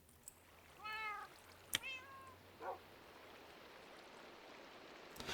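Cats in a Minecraft game world meowing, two short, clear meows close together followed by a fainter third, over a quiet running-water ambience.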